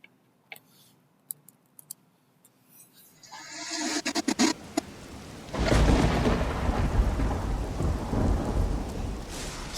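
A sudden storm in a video game trailer: after quiet ticking clicks, loud thunder rumbles in and heavy rain pours steadily, filling the space with dense, close noise.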